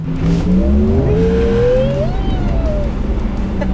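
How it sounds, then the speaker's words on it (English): A Porsche Taycan's synthetic sport-mode electric drive tone hums steadily in city driving, its pitch sweeping upward with acceleration over a constant low road rumble. "I like the electric sports sound."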